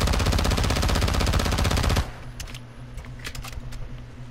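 Rapid automatic gunfire in Modern Warfare II, a loud, evenly spaced burst of shots for about two seconds that cuts off abruptly, leaving faint clicks and background noise.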